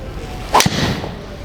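Ping G425 golf driver striking a ball on a range, a single sharp, loud impact crack near the start, then a fading airy whoosh as the ball flies off.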